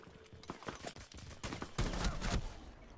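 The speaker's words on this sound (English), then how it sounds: "It's a shotgun." Shotgun blast landing a headshot in a video game, among a cluster of sharp gunshots and a heavier, louder burst near the end, with faint background noise.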